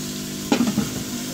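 Chicken and capsicum frying in a large pot, a soft steady sizzle with one brief clatter of stirring midway.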